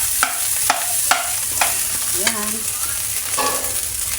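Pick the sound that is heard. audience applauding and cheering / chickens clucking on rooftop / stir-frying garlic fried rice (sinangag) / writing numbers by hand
stir-frying garlic fried rice (sinangag)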